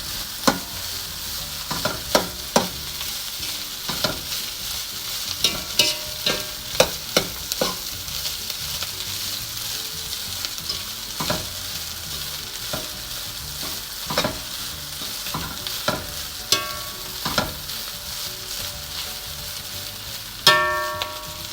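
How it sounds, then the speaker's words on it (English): Rice stirred together with leaves in a pot over a flame for an Arabic rice dish served with grilled fish, with steady rhythmic spoon scrapes and clinks against the pot over a continuous soft sizzle, close and fairly loud. "Half of the rice we're going to mix with the leaves."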